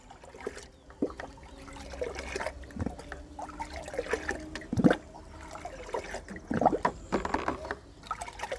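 Water is stirred and sloshed as it is mixed with battery acid in a container, giving irregular trickling and splashing with a few sharper knocks, faint and close with no voices.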